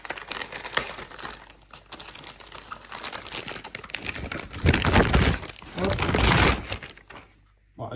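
Crinkling and rustling as a Tesla automatic door handle is unpacked from its packaging by hand, with bursts of plastic crackle. Someone talks in French over and between the handling noises.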